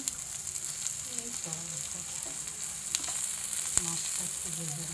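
Helencha greens with shrimp frying in a pan, a steady close sizzle with a few clinks and stirring scrapes, no talking.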